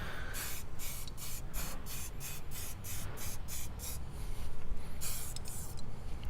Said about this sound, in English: See, it kind of like just stops spraying for a second.